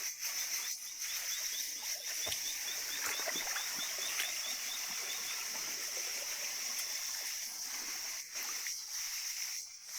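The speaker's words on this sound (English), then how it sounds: "We keep pushing through the stream" Stream water flows steadily through a wild forest at night, a continuous close rushing and trickling wash that holds even throughout, with faint splashes as someone wades through it.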